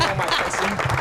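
Audience clapping in response to a prompt during a dating discussion, a short burst of applause mixed with voices talking over it.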